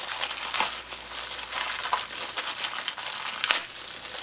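Sealed plastic packaging around an IPTV box power adapter crinkles and crackles steadily for several seconds, close up, with a few sharper tearing snaps.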